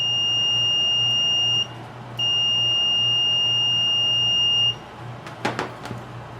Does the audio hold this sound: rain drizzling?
no